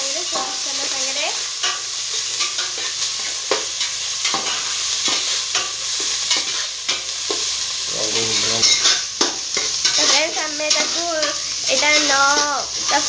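Onions and mango fry in oil in a pan, giving a loud continuous sizzle with stirring scrapes, while a person talks over the cooking.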